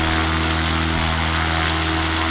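An X Cub light airplane in flight over the Carmel Valley, its propeller engine giving a steady, loud, even drone with a constant hum that fills the whole stretch.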